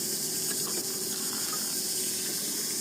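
Steady running water splashes and hisses continuously onto paprika plants in planter bags, like a stream poured from a hose or can, with no voices.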